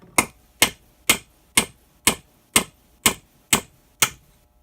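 Hammer driving a punch to tap quarter-inch plugs into an NP205 divorced transfer case: nine sharp, bright metallic taps at a steady pace of about two per second, close and alone with quiet gaps between.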